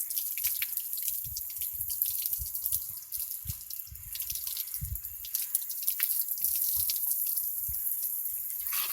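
Water splashing and dripping from a temporary off-grid homestead shower during rinsing, a steady close patter of irregular drips and splashes running throughout with no talk.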